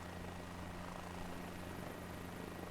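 Helicopter flying in a flight simulator game while losing altitude near the United Nations building, a continuous steady rotor and engine drone with dense noisy whir throughout, fairly loud and unbroken.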